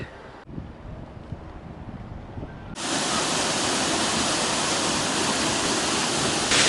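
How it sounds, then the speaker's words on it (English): Steady, loud roar of Spray Falls pouring into Lake Superior at Pictured Rocks, Michigan, after a quieter, windy stretch, a broad constant rush of falling water close by. "This is Spray Falls, and that is pure awesomeness right there. It's pouring right into Lake Superior."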